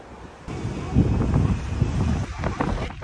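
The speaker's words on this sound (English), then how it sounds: "the waves were really, really strong and it was really dangerous" Strong Hawaiian ocean waves with wind, a loud, rumbling roar of surf under heavy wind buffeting the microphone, steady and continuous after a brief quieter start.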